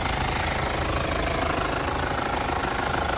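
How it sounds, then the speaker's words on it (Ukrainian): A Hyundai Santa Fe engine idles steadily with a continuous rumble and slight knocking, close by under an open hood, with no voices. "Двигун працює непогано."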